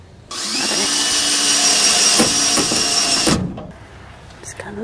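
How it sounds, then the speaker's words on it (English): A power drill bores into wood during a Toyota Hiace van conversion, a loud, steady high whine for about three seconds that cuts off abruptly, followed by quieter handling noise. "You can drill into this wood."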